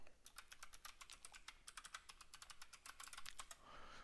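A password being typed on a computer keyboard: a quick, quiet run of crisp key clicks in irregular rhythm, close by and alone.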